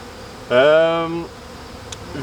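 A single close honeybee buzz near a hive box, with a rising then falling pitch, lasts under a second against a quiet background.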